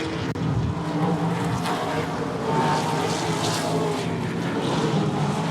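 ASA late model stock cars race in a pack at I-94 Raceway, a continuous loud engine roar that stays steady the whole time with no pause, nearby and dense.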